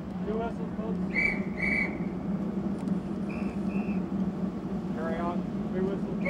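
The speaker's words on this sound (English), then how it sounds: "we're going to have to listen up for him to have to listen for his whistle signals and watch" Shipboard whistle signals for passing vessels ring out on the Navy cruiser USS Antietam, with two short blasts early and softer follow-up tones, all under a constant low engine drone while people talk nearby.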